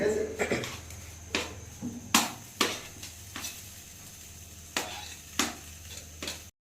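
Chicken and cabbage being stir-fried into chow mein: a series of sharp scraping and clattering strokes of a spatula against the pan, about ten hits spaced irregularly over a low steady sizzle, fairly close.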